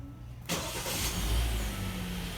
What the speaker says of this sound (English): And a few seconds later, the engine cranks.